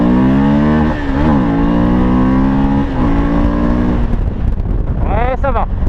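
Suzuki V-Strom 1000 XT motorcycle engine accelerating hard, close and loud, its pitch climbing steadily through the gears with brief dips at each shift, wind rushing over the microphone, and a higher whining rise near the end.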